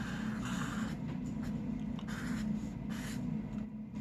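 Marker or chalk on a board while a graph is drawn, short scratchy strokes in quick bursts with brief pauses between them, close and fairly loud over a low steady room hum.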